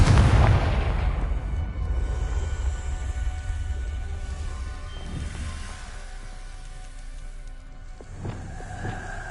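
A Confringo fire spell in a Harry Potter video game erupts as a loud booming blast, its deep rumble washing out and decaying over several seconds, with a brighter crackling burst near the end.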